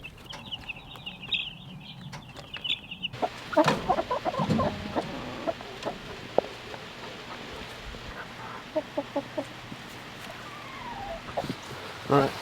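Week-old young chickens cluck and peep in a pasture coop, with a close burst of calls and scuffling partway through and scattered chirps afterward, over a person speaking.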